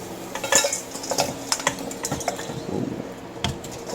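Freshly fried golden-brown fries tumbling into a bowl, a few clattering knocks and scrapes of dishware over several seconds, close and fairly loud.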